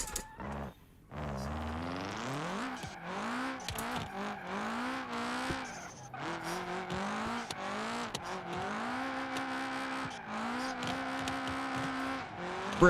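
Game car in BeamNG sliding after a sudden handbrake pull, a dense loud engine whine with rising and falling revs and skidding tyre noise running steadily throughout.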